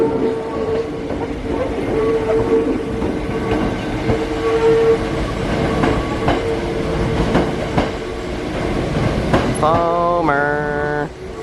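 A Hakone mountain railway train painted like a Swiss train rumbles steadily along, its loud continuous rolling and rattling filling the scene, with a rising tonal chime or horn-like sound near the end.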